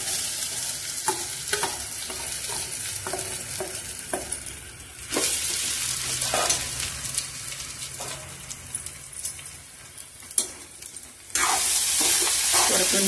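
Sago pearls are sautéed and stirred in a pan for savory sago upma, with a steady sizzle and repeated spatula scrapes, and a louder frying burst near the end.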